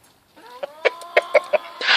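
A rooster clucks in a short series of sharp, fairly close calls, about five in quick succession, ending in a burst of rustling noise.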